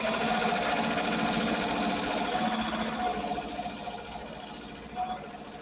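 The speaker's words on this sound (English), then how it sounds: "I'll hit the start button here. And you'll see the machine will start sewing from the front left corner." Embroidery machine sewing out a design at about 1,000 stitches per minute: a steady, close mechanical whirring hum with rapid needle chatter running throughout.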